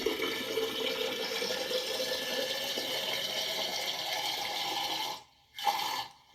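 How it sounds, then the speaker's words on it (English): Water pours steadily into a tube in preparation for a hydrogen gas experiment, a continuous close rushing splash that breaks off briefly near the end and then resumes. No one speaks. "I'm going to fill it up with water, so you can see that."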